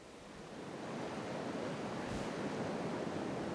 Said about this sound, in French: Les vagues sont un peu timides pendant la finale, mais de toute façon c'est la compétition.